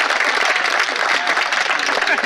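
An audience at a comedy poetry show claps loudly, a dense and steady wash of many hands close by for a couple of seconds.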